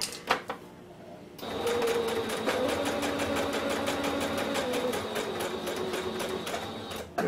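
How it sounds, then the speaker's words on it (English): A sewing machine runs a regular straight stitch along the edge of cosplay interfacing fabric, a steady rapid mechanical whir with a fine ticking rhythm that starts after a brief pause and continues unbroken, close and fairly loud. "And I'm just doing a regular straight stitch"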